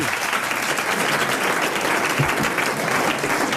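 TV quiz show studio audience applauding a winner: dense, continuous clapping from a full crowd, loud and even throughout.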